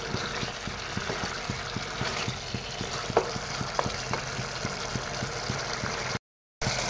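Chicken curry boiling hard in a pot over a high gas flame, giving a steady bubbling hiss with a rapid regular ticking and a few louder pops, cut by a short silent gap near the end.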